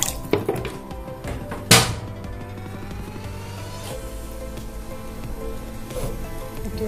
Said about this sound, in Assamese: এতিয়া মই ইয়াতে পানী এড কৰি দিওঁ এয়া মই নৰ্মেল পানী দিছোঁ